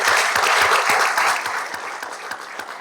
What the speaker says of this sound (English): Now, I know everyone's been clapping